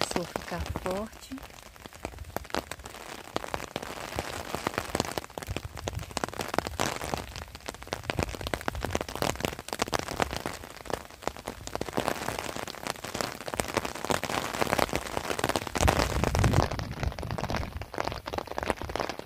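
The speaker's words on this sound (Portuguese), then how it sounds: "A chuva começou a ficar forte." Heavy rain pours down in the Brazilian sertão, a dense, steady hiss of drops pattering on surfaces that holds loud and unbroken throughout.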